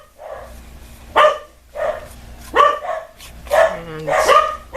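Dogs barking in short bursts at medium distance, several separate yips and barks spread across a few seconds over a quiet room, with some whimpering-like tones near the end.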